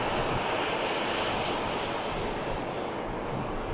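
Airbus A330 airliner taxiing at Manchester Airport, heard from afar as a steady, broad engine roar mixed with wind rush on the microphone, with no pauses and no voices.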